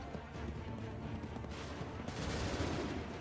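Massed musket volleys crackle from troops fighting at Lexington and Concord in the game Assassin's Creed 3, a dense continuous battle din that grows louder toward the end.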